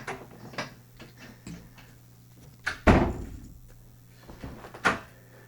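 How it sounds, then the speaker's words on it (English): An indoor door is pushed shut with a solid thunk midway through, preceded and followed by softer knocks, handling clicks and faint movement in a quiet room. "Close the door, buddy."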